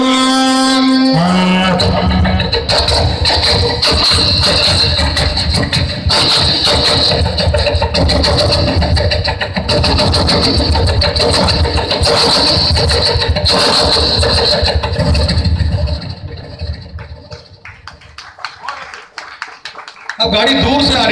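A man vocally imitates a railway train approaching from far off and passing by, a long rhythmic chugging and hissing performance delivered loudly on a comedy stage, fading toward the end.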